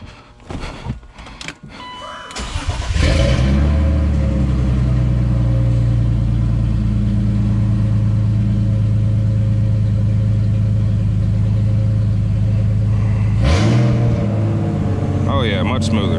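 Turbocharged BMW E36, just fitted with a new crank sensor, cranks with a few clicks and clunks, catches and settles into a loud, steady idle that hangs slightly while cold, with a brief dip and rev near the end.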